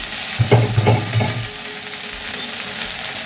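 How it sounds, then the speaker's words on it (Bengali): Drumstick leaves frying in a kadai, with a few quick stirring scrapes and knocks early on, then a steady sizzle that continues at a moderate level. "আমি এই কড়াইতেই সজনে শাকটা দিয়ে দিলাম"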